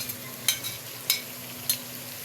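Khara masala keema sizzles with onions in a pan, a low continuous fry broken by three evenly spaced scrapes of a stirring spoon.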